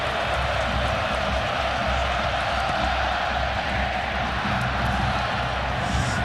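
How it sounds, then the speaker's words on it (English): Continuous broad roar of a large stadium crowd at a college football bowl game between Ohio State and Oregon, steady murmuring and cheering that holds level throughout with no breaks. "The crowd settling back in after the intermission and the bands"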